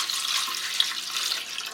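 Warmed milk pours into a bread pan, a steady soft liquid stream with a faint splashing hiss, heard alone at close range.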